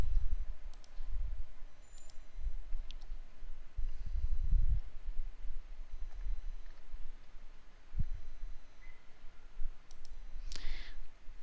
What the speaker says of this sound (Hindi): ट्रेंड पे क्लिक करिए